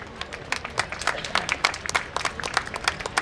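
At a mass wedding ceremony, the gathered audience claps for the donors in an uneven burst of distinct hand claps, moderately close and lively, with no talk over it.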